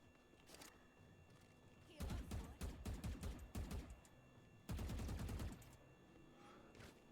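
Bursts of rapid gunfire from a tactical shooter video game, two loud volleys of closely spaced shots separated by quieter game ambience with a few faint clicks.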